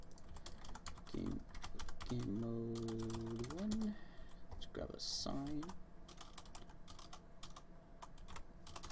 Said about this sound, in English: my typing is amazing right now